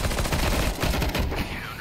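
P90 submachine gun fire in Counter-Strike 2 rattles out as a rapid burst of close, loud shots, then trails off into fainter game sounds near the end.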